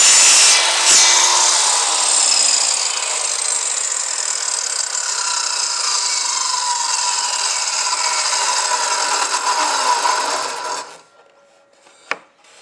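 A saw cuts wood pieces to a repeatable length, a loud, steady, close whining rasp for about ten seconds that cuts off abruptly, followed by near silence and a single light knock.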